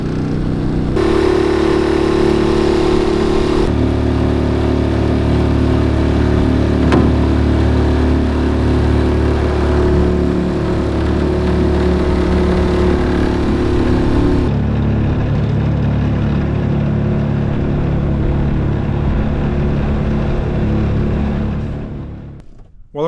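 The outboard motor of a 50-year-old aluminum fishing boat runs loud and steady close by, a continuous droning engine hum with a shift in tone partway through before it cuts off at the end.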